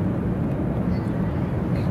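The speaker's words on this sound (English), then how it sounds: "don't mind the background noise. That's just the airplane" A constant low, dull roar fills the space, steady and unbroken, like engine drone heard from inside a plane's cabin.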